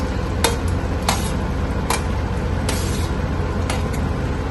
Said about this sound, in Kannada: ಪನ್ನೀರ್ ಮತ್ತೆ ಕ್ಯಾಪ್ಸಿಕಮ್ ಫ್ರೈ ಮಾಡಿ ಇಟ್ಕೊಂಡಿದ್ನಲ್ಲ ಹಾಂ ಅದನ್ನ ಹಾಕ್ಕೊಂತೀನಿ